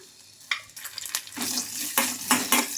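Green chillies, garlic and ginger fry in oil in a kadai, a close, bright sizzle that swells in bursts as the pieces are stirred, with no talking.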